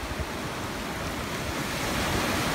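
Steady roar of sea waves on a seaside shore, continuous broadband wash with no clear breaks, slightly rising toward the end and recorded without any talking.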